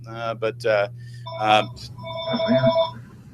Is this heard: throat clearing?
no